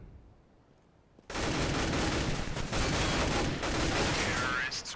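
Counter-Strike: Global Offensive gunfire during an ESL Pro League match on Cache, a sudden dense burst of rapid shots after a quiet moment, loud and sustained with overlapping fire, and a commentator's voice faintly under it.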